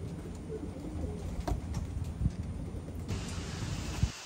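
Young racing pigeons coo in a loft set up in an old dog kennel, soft repeated cooing calls near by over a low background hum, with occasional flutters and knocks.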